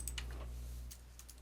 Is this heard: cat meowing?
no